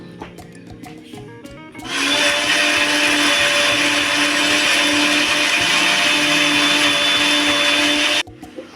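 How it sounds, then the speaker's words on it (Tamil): After some quiet clattering, a mixer grinder roars to life, grinding coconut with ginger, cumin and water loudly and steadily for about six seconds before cutting off abruptly. "இதை அரைச்சி நம்ம தேங்காய் பால் எடுக்க போகிறோம்."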